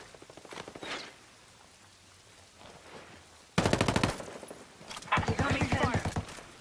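Gunfire in Ghost Recon Breakpoint, loud rapid automatic bursts rattling near in two long volleys after quieter scattered shots, with a voice speaking briefly early on.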